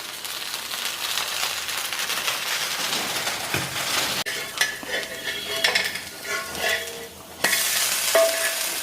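A freshly flipped tomato dosa sizzles on a hot pan, a loud, steady crackling hiss with occasional light scrapes and clinks of a utensil, and no voices.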